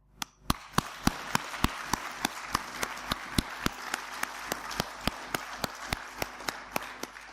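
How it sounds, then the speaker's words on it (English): Applause at a women's political conference, a steady crowd clapping that swells in and holds for several seconds, with sharp individual claps standing out regularly over the wash of hands. "I think we should give ourselves a round of applause and our movement a round of applause"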